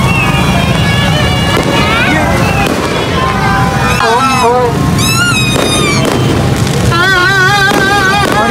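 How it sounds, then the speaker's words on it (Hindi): A fireworks display bursts behind People's Square during a 14 August celebration, with whistling rockets and booms over loud, steady crowd noise and people talking nearby. "ये सामने हो रही है आतिशबाजी पीपल्स स्क्वायर के बिल्कुल पीछे"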